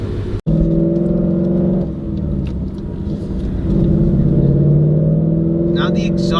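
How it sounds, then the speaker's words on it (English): A Ford Mustang GT fitted with a Roush cat-back exhaust drives along, its deep throbbing exhaust note rising and falling with throttle, heard from inside the car, loud and continuous. "Now the exhaust is pretty loud, I'm not gonna lie."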